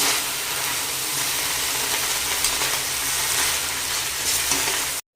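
Leaves with ridge gourd frying in a pan and being stirred, a steady close sizzle with crackle that holds level throughout, then cuts off abruptly at the end.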